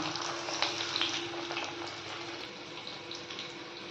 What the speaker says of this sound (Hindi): एक के बाद एक सभी पत्ते को इस तरह से हम फ्राई करते जाएंगे।